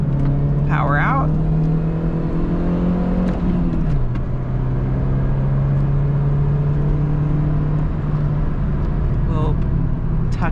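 A Mercedes A-Class engine hums steadily under load on a track, with pitch holding, dipping briefly and rising again as the throttle is feathered; brief voice-like sounds are faint in the background.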